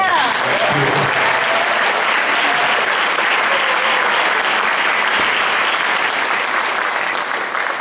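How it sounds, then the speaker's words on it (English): Audience at a high school winter concert giving sustained loud applause, dense clapping and some crowd noise carrying on for several seconds. "Another big round of applause."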